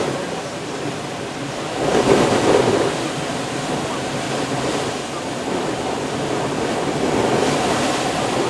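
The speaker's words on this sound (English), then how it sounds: "That's a big gust." Strong wind gusts roar with ocean surf crashing during Tropical Storm Isaias at Ocean City, Maryland, a loud continuous rush that swells around the second and seventh seconds.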